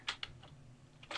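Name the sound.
typing on a computer keyboard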